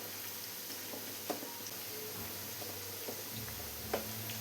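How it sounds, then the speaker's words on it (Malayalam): Soya chunks fry in hot oil with a steady, quiet sizzle, with a couple of soft stirring clinks and scrapes as they are turned until crisp. "ഇനി നമുക്കിത് ഇടയ്ക്കിടയ്ക്ക് ഇളക്കി കൊടുത്തിട്ടൊന്ന് നന്നായി മൊരിച്ചെടുക്കാം."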